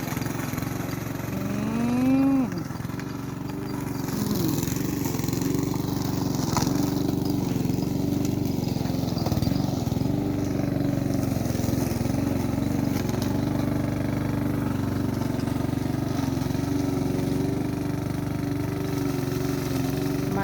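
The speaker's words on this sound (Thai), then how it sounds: "เสียงตัดหญ้าที่ไหนวะ" Engine-powered grass cutter running in a rural field, a steady droning whine holding throughout at moderate distance, with a cow's long moo rising near the start.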